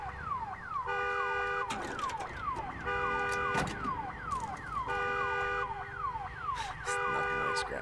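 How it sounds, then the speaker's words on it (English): A car alarm blaring in the zombie survival game Days Gone, a loud cycling pattern of whooping sweeps and steady beeping tones repeating throughout, with a faint voice briefly underneath. "We could even use alarms like that to our advantage."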